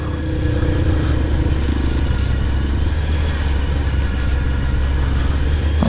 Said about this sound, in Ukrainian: Угонщиці, угонщиці оці на скремблерах.